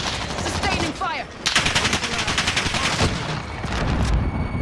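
Rapid gunfire in the Call of Duty Warzone video game, dense automatic bursts and sharp single shots crackling close by in a sustained firefight, with a player's voice shouting over it.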